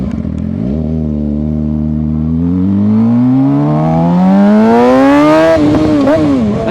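A motorcycle accelerates steadily through a long, rising engine whine, then the pitch dips and recovers as it shifts, heard up close from the rider's position with no talk.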